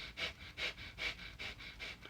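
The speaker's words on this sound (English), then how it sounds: "breath of fire, which I've shown before, which is like a dog, panting like a dog" Breath of fire yoga breathing: rapid, rhythmic forced exhales through the nostrils, like a dog panting, five sharp huffs in about two seconds, close and fairly quiet.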